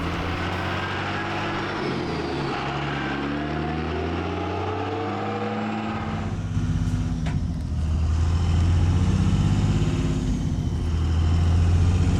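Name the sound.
Ford F-350 truck with 24v Cummins engine running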